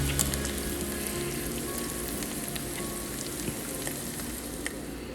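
Sauce for chicken 65 sizzling and bubbling in a pan, a continuous soft frying crackle with scattered small pops, fairly quiet and alone without talk.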